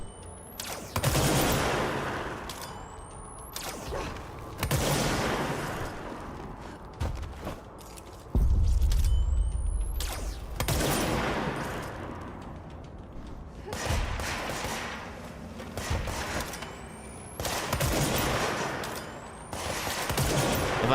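Bursts of rapid gunfire in the video game Control, loud and close, arriving in repeated volleys a few seconds apart with heavy thuds and mechanical clanks between them.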